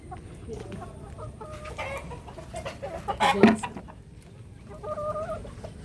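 Hens clucking in a flooded backyard chicken coop, several soft clucks and calls at close range that rise to a louder burst midway, with a faint voice in the background.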